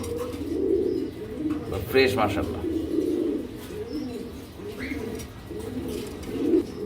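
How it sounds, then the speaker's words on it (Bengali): Fancy pigeons at a pigeon farm coo steadily in low, rolling calls throughout, with a few faint chirps, while someone speaks briefly over them. "অনেক সুন্দর কোয়ালিটিফুল একটা কবুতর"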